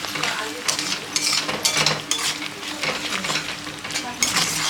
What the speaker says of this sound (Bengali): এটা হালকা নাড়িয়ে দিব এখন